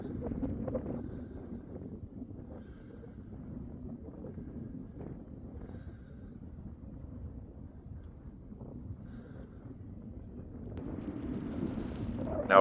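Wind buffets the microphone outdoors at a shooting range, a steady low rumbling roar that stays fairly loud throughout and swells with a sharper gust at the end.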